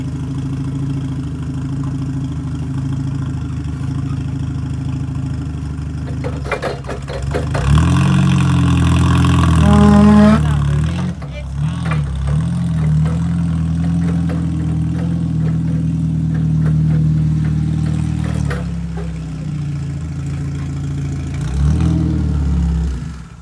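A forklift engine idles steadily at close range, then revs hard for a few seconds before settling back to a rough idle, with a second brief rev near the end.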